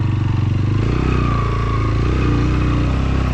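A motorcycle rides along a short road toward Phander Lake in Phander Valley, Gilgit Baltistan, its engine humming close and loud with a steady rhythmic throb and slight shifts in pitch, no talking.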